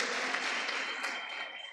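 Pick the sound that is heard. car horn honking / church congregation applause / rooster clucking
church congregation applause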